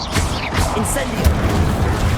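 An Incendio fire spell in the Hogwarts Legacy game flares with sharp, crackling bursts and low thuds over a dense bed of combat sound.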